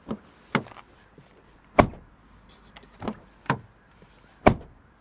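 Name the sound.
Omoda 7 plug-in hybrid car doors closing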